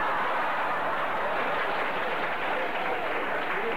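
A 1960 late-night television studio fills with steady, even applause from the crew and audience, a continuous dense patter of clapping with no talking.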